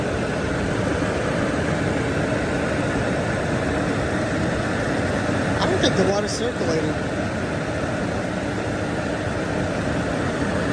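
An overheating Range Rover engine idles with a steady, close rumble while someone talks over it.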